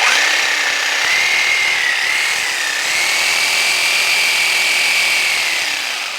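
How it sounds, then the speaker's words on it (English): A Sawzall reciprocating saw powered from an EcoFlow Delta runs loud and close with a steady high motor whine, its pitch shifting slightly as the load changes, continuous throughout with no talking. "here is the Sawzall"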